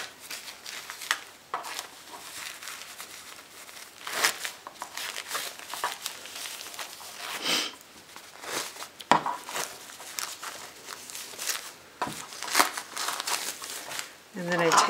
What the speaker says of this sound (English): And for the polymesh, I simply pull it away.